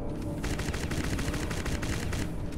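Rapid automatic gunfire in the video game Crysis Remastered, a dense, loud, continuous stream of overlapping shots with a steady rhythm and no speech.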